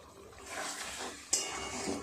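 A vegetable gravy simmers while being stirred, giving a soft bubbling sizzle with scraping strokes and one sharp clink of a utensil against the pot partway through, close and with no talking.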